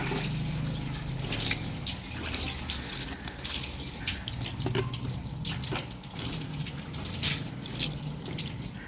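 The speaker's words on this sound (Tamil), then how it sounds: "இந்த மாதிரி வடகத்தை தண்ணி தொளித்து வைக்கணும்" Water splashes and patters steadily with scattered drips, close by, as it is sprinkled over drying rice crisps, with no talking.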